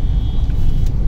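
A Mahindra XUV700 petrol automatic SUV drops a gear and pulls hard, its engine rumbling loud and close in a deep, continuous roar with no voices over it.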